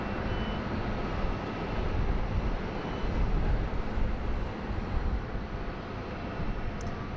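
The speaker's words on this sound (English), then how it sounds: "just coming up on taxiway Alpha, is Malaysian Airlines Flight 122, heading back to Kuala Lumpur" A Malaysian Airlines jet heading for Kuala Lumpur taxis at Sydney Airport, its engines giving a steady broadband rumble that swells slightly midway, with faint high beeping in the background.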